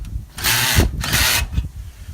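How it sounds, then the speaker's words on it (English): A cordless drill fitted with a Camco adapter cranks a Mallard M185 travel trailer's stabilizer jack, two loud close whirring bursts about half a second each with a short pause and a faint tail, no speech. "I have these neat little Camco adapters that goes onto a drill"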